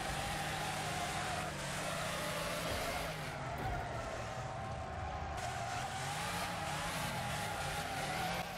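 Race cars in the demolition racing video game Wreckfest, a continuous loud engine roar from several cars with a wavering pitch and tire noise, no voices.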